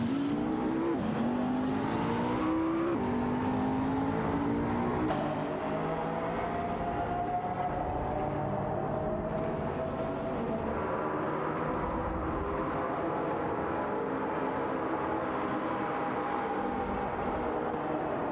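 AI-driven race cars, including a Lamborghini Gallardo, speed around a track in a racing video game. Their engines whine loudly and steadily, the pitch sweeping up and down through gear changes, with no talking over them.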